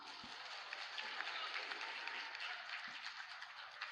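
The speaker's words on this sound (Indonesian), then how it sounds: "Mari kita awali dengan tepuk tangan bersama." Applause from the audience at a Qur'an knowledge quiz contest in West Sumatra, a steady, moderately loud wash of many hands clapping that runs the full length without pause.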